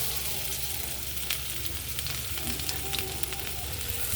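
Garlic sizzles in melted margarine in a pan, a steady close frying hiss broken by small pops and crackles, with faint clinks of stirring.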